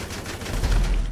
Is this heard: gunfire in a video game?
yes